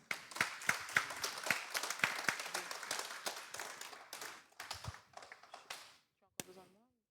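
A small audience at a talk claps scattered and loosely, with sharp individual hand claps that thin out and stop near the end, a voice briefly audible.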